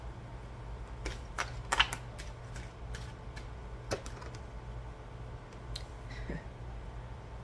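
A deck of oracle cards is shuffled close by and quietly, with a series of soft irregular flicks and riffles and a couple of sharper snaps over a low steady hum, with no talk.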